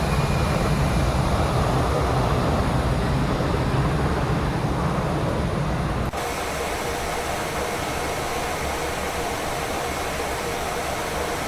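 An airliner in X-Plane 11 roars steadily as it flies past at cruise, a loud continuous engine drone that drops abruptly to a lower, duller rumble partway through, with no talk.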